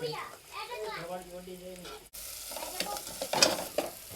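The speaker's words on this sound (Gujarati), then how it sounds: "કાંદા નાખી દીધા છે મરચી નાખી દીધી છે હવે છે ને થોડીક આમ રહેવા દેવાનું છે ચડવા દેવાનું છે" Onions and chilies frying and being stirred in a pan: a voice talks over a soft sizzle at first, then the sizzling grows louder with close scraping stirs and a few sharp spatters.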